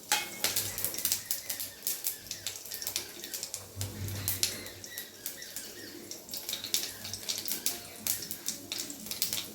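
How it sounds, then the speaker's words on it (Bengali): Cumin, bay leaf and chilli tempering in hot oil for a Bengali parshe fish dish with vegetables, a close, steady crackle of dense sharp pops and sizzles running throughout, with no talk. "এখন আমি ফোড়ন দিয়ে দেবো ফোড়নে আছে জিরে তেজপাতা লঙ্কা"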